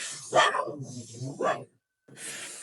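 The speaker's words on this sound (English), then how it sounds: "My dog is barking." A dog barks a few times at a distance, faint and muffled, with a short silent gap before the room sound returns.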